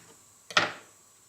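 A knife slices through a ripe Opalka paste tomato in a single quick, soft cut, a brief close crunch and squish in a quiet setting.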